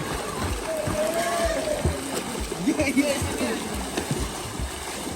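Water splashing in a swimming pool, irregular close splashes and sloshing under lively voices of people talking and playing.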